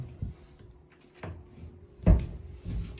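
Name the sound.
wardrobe door opening or closing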